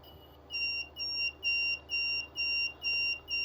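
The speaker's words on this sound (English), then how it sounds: "I'm going to stick a buzzer in." Buzzer driven by a 555 timer PWM signal, giving a steady series of about six evenly spaced shrill electronic beeps, each roughly a third of a second long, clear and close against a quiet hum.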